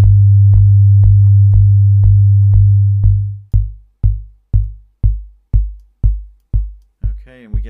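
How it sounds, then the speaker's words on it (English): A steady synth sine wave from oscillator B, part of an 808 kick patch built in Ableton Operator, holds as a loud low drone for about three seconds, then breaks into a regular series of short booming kick hits, alone without talk. "Okay, and we get another sine wave,"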